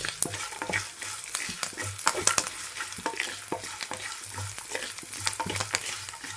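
Slit green chillies and cashews fry in a pan, a dense crackling sizzle broken by frequent sharp scrapes and clacks of stirring, close and unaccompanied by speech.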